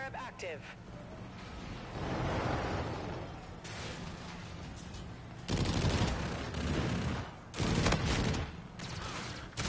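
Video game gunfire, muffled bursts and rumbling blasts rising and falling under someone talking, with a few sharper shots near the end.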